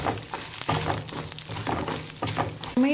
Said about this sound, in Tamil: இப்போது ஜீரகமும் கொத்தமல்லி, மிளகு, மிளகாய் எல்லாத்தையும் சேர்த்து இதில் நல்லா வதக்கிக்கலாம்.